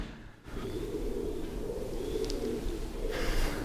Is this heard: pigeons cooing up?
yes